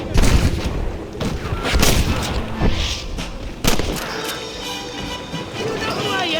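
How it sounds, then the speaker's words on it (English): Gunfire in the Red Dead Redemption video game, as enemies shoot down from a cliff top: sharp shots crack at irregular intervals, some loud and close, among shouting voices and constant background noise. "They're shooting down on us!"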